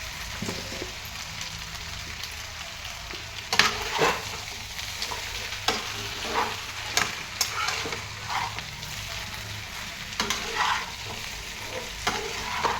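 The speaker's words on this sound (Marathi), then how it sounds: "मोठ्या गॅसवरच आपल्याला परतून घ्यायचं आहे" Finely chopped onion and potato sauté over a high gas flame for a yellow potato bhaji, with a constant close sizzle broken by repeated scraping stirs of a spoon against the pan.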